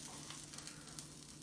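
A serrano grilled cheese sizzles in a pan, a faint steady frying hiss with small crackles and no talking.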